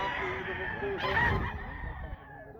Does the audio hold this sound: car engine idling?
no